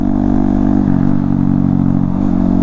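A Honda Grom motorcycle with an AR aftermarket exhaust revs loudly and steadily up close, its deep throaty exhaust rumble shifting pitch slightly as the throttle rises and falls.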